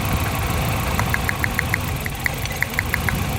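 A Nissan Silvia S13 with a CA18DET engine idles with a misfire, a low steady rumble broken by a regular train of sharp ticking knocks, fairly close and without talking.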